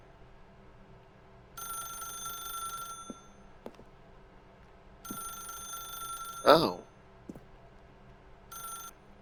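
An old-style telephone in the video game The Stanley Parable rings in three separate bursts of electronic bell trilling, with a brief voice exclaiming partway through and short quiet gaps between rings.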